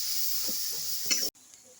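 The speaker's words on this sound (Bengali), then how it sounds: "দিয়ে আমি একটু সামান্য জল দিয়ে মশলাটা কষিয়ে নেব।" Spice paste for a Bengali taro kofta curry being stir-fried with a splash of water, a soft steady hiss and sizzle with a few scraping stirs, then a sudden cut to quieter sizzling.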